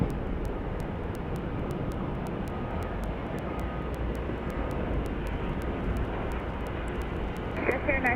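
A Hawker 800XP business jet rolls out after landing at Dallas Love Field with spoilers up and thrust reversers deployed, a steady broadband roar holding for several seconds under faint radio chatter.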